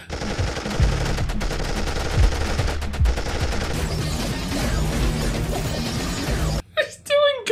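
Rapid, loud automatic gunfire and bursts from the gun kata scene of the film Equilibrium rattle continuously for several seconds. A person speaks briefly at the end.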